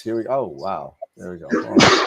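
Someone talks, then a sharp, loud sneeze bursts out near the end.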